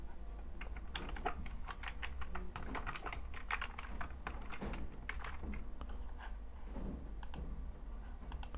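Someone types a password on a computer keyboard, a quick run of close, crisp key clicks in uneven bursts with brief pauses, over a faint low hum.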